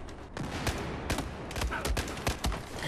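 Shotgun blasts in Battlefield 4 boom out in a rapid, uneven volley of about eight heavy, close shots over a constant din of battle.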